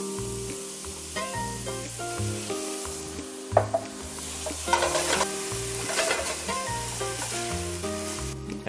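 Cooked leftover turkey is stir-fried with TNT oyster sauce in a hot pan, giving a continuous loud sizzle with repeated scraping stirs and clacks. Soft background music plays underneath.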